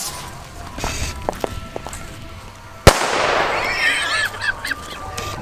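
A single sharp firecracker bang cracks out mid-clip, loud and sudden, followed by a burst of honking and squawking birds scattering.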